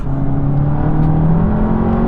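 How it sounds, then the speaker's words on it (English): A modified VW Golf GTI TCR (Mk7.5) with the EA888 2-liter four-cylinder turbo engine drones loudly and steadily, pitch creeping slowly upward as it revs under load, with no talk. "EA 888 2-liter 4-cylinder turbocharged engine, which Volkswagen have been using for years and years"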